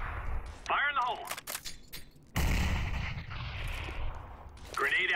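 A CS:GO grenade detonates with a sudden loud blast that rolls out into a long rumbling tail, set between short radio-style voice callouts.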